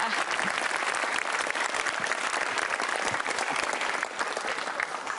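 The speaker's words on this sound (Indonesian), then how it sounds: "Tepuk tangan sekali lagi dong buat Anda semua." A studio audience at a television show claps loudly and steadily for several seconds, dense continuous applause with some crowd noise beneath.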